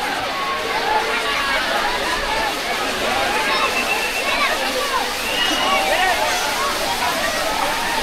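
Water at a small dam on a Matheran hill-station outing, with people bathing: a steady rush and slosh of flowing water with splashes, overlaid by a hubbub of many voices chattering nearby throughout.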